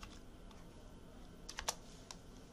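Typing on a computer keyboard, heard as a few faint, scattered key clicks with a short burst of taps near the end, alone against a quiet background hiss.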